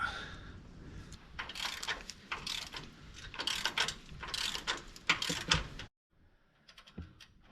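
A ratchet clicks while bolts are tightened on a Jeep front axle build, with rapid bursts of metallic pawl ticks separated by short pauses, then a brief silence and a few quieter clicks at the end.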